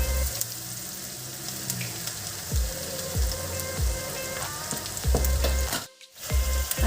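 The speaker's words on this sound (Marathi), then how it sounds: "कांदा लवकर गोल्डन होण्यासाठी आपण याच्यात आता मीठ घालून घेऊ" Chopped onions frying with salt in a pan for a whole mung bean dosa, a loud, close, continuous sizzle with repeated stirring scrapes and a brief drop near the end, with no talking.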